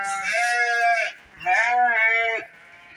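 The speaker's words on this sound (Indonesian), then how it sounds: "Mana kambingnya, Lur?" Goats bleat in two long, loud, wavering calls close by, with a short pause between them, out among a flock where kids have just been born.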